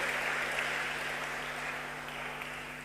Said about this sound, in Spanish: Un aplauso más lindo